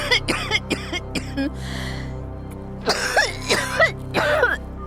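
A woman coughs and clears her throat in a series of harsh, close bursts, a few quick coughs followed by a pause and then a louder fit of hacking.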